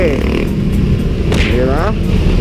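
Busy road traffic of cars and motorcycles heard from a riding motorcycle, a dense close engine drone with one vehicle revving past in a rising-falling sweep midway, a speaking voice over it.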